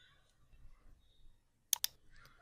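Two sharp computer mouse clicks in quick succession, close and crisp, following a quiet stretch.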